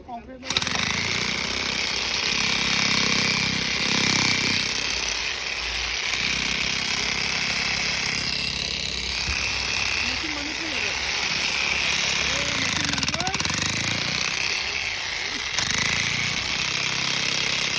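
A loud power tool runs continuously and harshly for the whole stretch, its engine-like buzz steady with brief dips, while voices speak over it.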